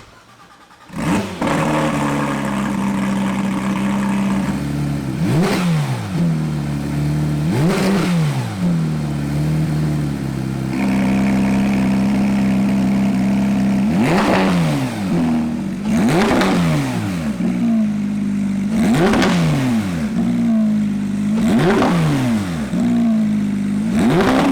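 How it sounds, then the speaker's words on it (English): A 2018 Porsche 911 GT3 with a 4.0-liter engine and Armytrix valvetronic exhaust fires up, then idles deeply between roughly eight sharp, loud revs that climb and fall back in turn, close by and unaccompanied. "Let's lower it down, hear what it sounds like."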